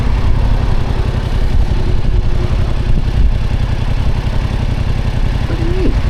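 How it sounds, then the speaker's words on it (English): A Yamaha MT-07 motorcycle engine runs steadily with a loud, rapid low-pitched pulsing throb, heavy wind buffeting over it as the bike rides along, with no speech. "I'm on a motorcycle."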